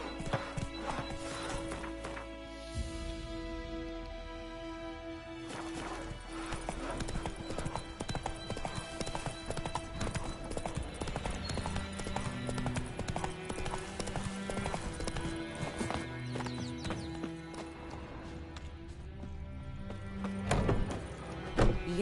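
Roach, the horse in The Witcher 3: Wild Hunt, trots along with steady clip-clopping hooves beneath a game soundtrack, accompanied by an occasional whinny.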